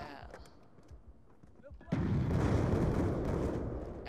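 A loud, dense burst of video game gunfire kicks in about halfway through and keeps going as sustained rapid shooting after a quieter opening.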